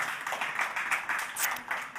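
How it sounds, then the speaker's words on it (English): Audience applause at a climate accelerator demo day after a presentation, a short burst of steady clapping from a crowd, fairly close and without talk over it. "let's give a round of applause for Linda."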